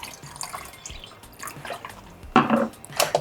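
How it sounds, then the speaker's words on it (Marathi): Water splashes and drips into a bowl in a few short bursts, the loudest near the end, close and fairly crisp. "ग्लासभर पाणी मी त्याच्यात घातलेलं आहे"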